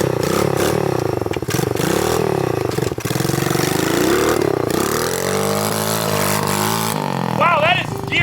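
A cheap TEMU dirt bike with a choke and no key runs loud and close, its small engine droning steadily with rising and falling revs, while people talk over it.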